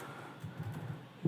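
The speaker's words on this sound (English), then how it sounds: "you can type in" A few soft keystrokes on a computer keyboard, entering a command for a Jupyter notebook in Python, tap quietly and close in a brief, sparse burst, with a slightly firmer key press at the end.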